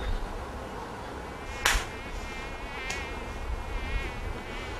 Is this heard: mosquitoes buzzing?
yes